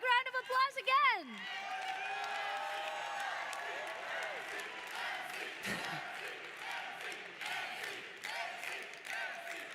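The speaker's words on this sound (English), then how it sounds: "Give them a big round of applause again." An audience at an awards ceremony applauds and cheers in a sustained wash of clapping after an opening shout, with scattered whoops and voices mixed in.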